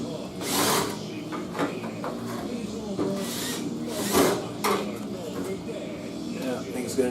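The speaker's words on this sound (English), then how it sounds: "We'll see if this drill bit can actually just do it without a pilot." A drill bit grinds into Triumph TR3 rear-end sheet metal without a pilot hole in a few short, harsh bursts, with people talking over and between the attempts.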